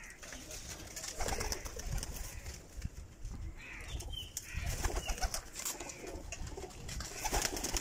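Pigeons coo and murmur in a busy group, with occasional wing flaps and rustling over a steady, noisy outdoor background.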